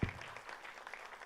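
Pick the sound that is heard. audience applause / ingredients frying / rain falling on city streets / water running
audience applause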